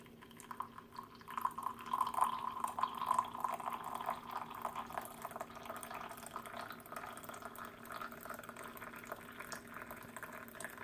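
Chai tea trickles through a sieve into a cup, a soft, close pouring and dripping that swells early and then continues faintly and steadily without talk.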